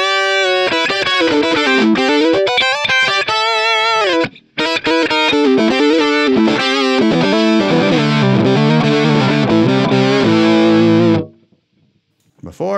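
Distorted electric guitar through a Line 6 Helix with the harmonizer after the distortion, loud, rich layered harmony lines sliding and sustaining across several phrases before cutting to near silence at the end.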